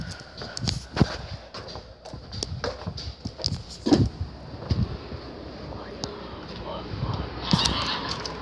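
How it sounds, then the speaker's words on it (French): Geese on a farm give scattered honks and cackles amid rustling movement and footsteps, with people talking intermittently nearby. "Là il y a les oies"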